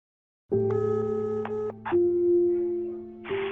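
Telephone dialing tones ring out loud and close: a few steady held tones broken by short beeps and a brief noisy burst, with no voices.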